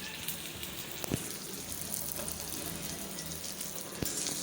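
Very hot oil with onion and garlic sizzles in a pan on a gas stove, a faint steady crackle and hiss with a couple of sharp pops, no voices.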